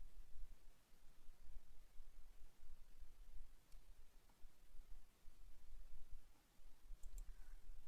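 Computer mouse clicks scattered sparsely across a steady hiss of background noise while a store is set up on a website, each click short, quiet and close, with no talk.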